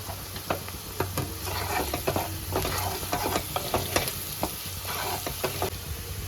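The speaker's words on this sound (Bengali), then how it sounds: "পেঁয়াজটা আমার ভাজা হয়ে গেছে" Onions frying in a pan with a little salt, a continuous close sizzle broken by repeated scraping stirs of a spoon.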